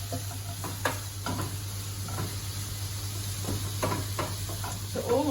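Onion fries softly in a pan for a pumpkin katsu curry, giving a low steady sizzle broken by a few light stirring taps and scrapes beneath a constant hum.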